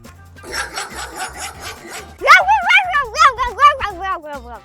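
Quick puppy yaps play first, then a child answers with a run of high, wavering yips imitating a puppy's bark, fairly loud and close.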